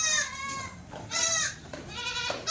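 Young Kathiyawadi goat kids bleating loudly and close by, three wavering cries in quick succession with no talk.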